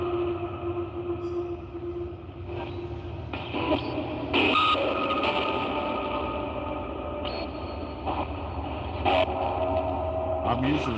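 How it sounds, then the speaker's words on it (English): A train rolls past near a graveyard, its steady low rumble and metallic squeals and clanks filling the scene, with a person's voice coming through faintly over it. "There's a train getting ready to roll by"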